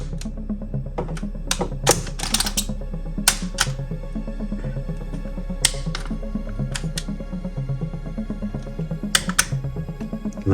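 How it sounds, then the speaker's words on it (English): Small plastic clicks from a Transformers figure, the FansHobby MB-08A Double Evil (Overlord), as its arm locks into position: sharp, close, scattered snaps over a quiet handling background with light rustle. "You hear a little click when I get to the right position."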